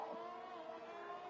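Race cars circling turn 1 behind a safety car in a sim racing league at Texas, heard as a faint, steady engine drone with tonal whine and no distinct passes, no talk.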